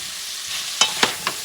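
Chunks of pumpkin are stirred in a frying pot amid a low background hiss, with three short scraping clatters spaced about a quarter second apart, close by and with no talk.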